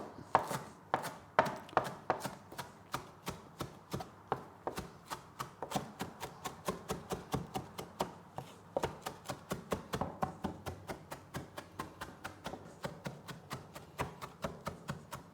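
A knife mincing fresh parsley on a cutting board, a steady rapid rhythm of crisp chops that continues evenly throughout, close and clear with no talking.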